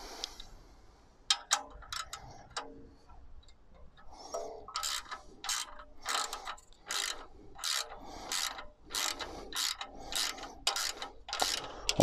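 A ratchet wrench tightening 12 mm bolts on GIVI crash bars fitted to a Royal Enfield Himalayan motorcycle, clicking in repeated short bursts of rapid ratcheting strokes, close and clear with quiet pauses between.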